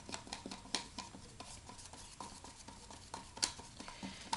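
Homemade fake blood being stirred with a spoon in a bowl, using a thick gel ingredient; soft, irregular scraping and clinking strokes close by, fairly quiet, with no talking.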